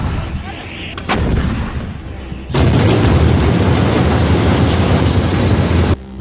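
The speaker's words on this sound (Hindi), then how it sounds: "तोप के गोले बरस रहे हैं।" Artillery shells firing in Gaza war footage from the Israel-Hamas war: one sharp blast, then from the middle onward a loud, sustained roar of heavy barrage that holds steady before cutting off near the end. No voices.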